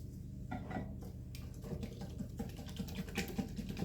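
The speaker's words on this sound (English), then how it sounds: "Let me use my whisk here." A whisk beats coleslaw dressing in a bowl with fast, steady clinking and scraping, a close, continuous metallic rattle without talk.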